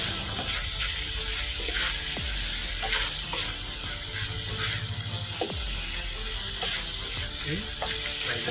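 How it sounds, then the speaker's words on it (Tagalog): Chicken adobo with papaya sizzles steadily in a pan as it is stirred, with frequent scraping and clinking of the utensil against the pan over a constant frying hiss and no talking. "Haluin na lang natin at gusto luto na ang ating chicken adobo with papaya"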